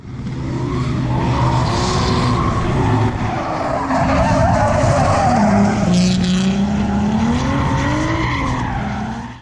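Tires squeal loudly and continuously as an engine roars, a drift car spinning out, skidding and sliding around at speed for several seconds.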